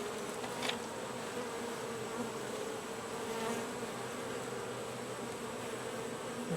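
Steady, dense buzzing of many bees swarming around a backyard beehive after rain, a constant close drone with faint passing hums and no talk.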